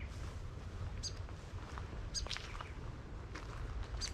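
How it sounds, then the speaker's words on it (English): Grey fantail calling in bush: a few brief high chirps spaced through the clip over a steady low rumble of wind or ambient noise, faint and moderately distant. "And here's the grey fantail."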